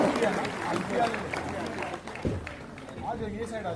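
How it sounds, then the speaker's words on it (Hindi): A crowd applauds at a student felicitation and career guidance ceremony, a dense, steady patter of many hands clapping through the whole stretch, with voices talking over it. "जोरदार तालियां।"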